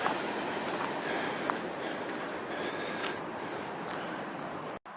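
A freight train pulling flatbed cars passes on tracks near homes, making a steady, dense rumble and rattle that fills the whole stretch and cuts off abruptly at the end.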